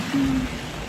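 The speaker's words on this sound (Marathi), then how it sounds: "तर ते एवढा पाऊस यायला लागला ना इथे" Heavy rain pouring down in a steady, dense, loud hiss that fills the whole second, with a brief low hum-like tone partway through and no voices.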